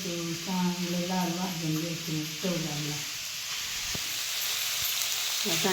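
Garlic paste and spices sizzle steadily while being sautéed in a pan for a capsicum dish, a constant hiss under a woman's speech for the first few seconds, with a couple of faint utensil taps.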